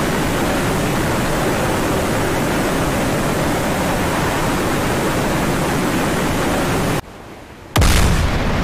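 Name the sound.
missile hitting a ship, explosion, from video game DCS World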